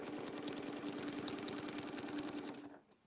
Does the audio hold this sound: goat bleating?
no